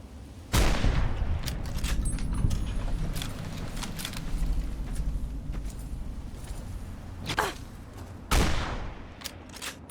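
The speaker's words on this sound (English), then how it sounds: "Oh, gunshot again." Gunfire in Fallout New Vegas: two sharp, loud shots about eight seconds apart stand out over a rumbling game soundscape, with smaller clicks and clatter in between.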